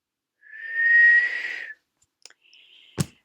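A person attempts a whistle, producing one long breathy airy tone followed by a brief faint second try and a sharp click.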